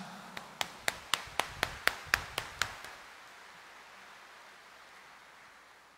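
Hand claps in Quiapo Church during a Catholic homily: about ten sharp, evenly spaced claps over roughly three seconds, close and crisp, followed by near silence.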